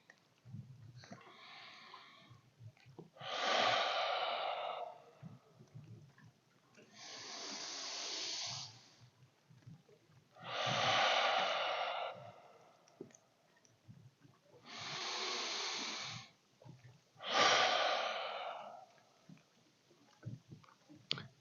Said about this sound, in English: in through your nose, out through your mouth 3 times, all the way to get rid of all that stale air